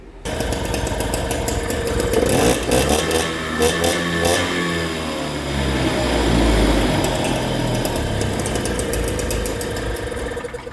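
A Motobecane Mobylette two-stroke moped engine fires up and runs loud and close, buzzing steadily with a brief rise in revs midway and no voices.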